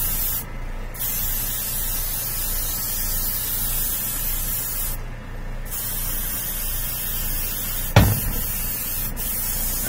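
Paint sprayed inside a spray booth on a Batman figure build gives a steady hiss of airflow, broken by a few short louder bursts of spray, with a brief knock near the end.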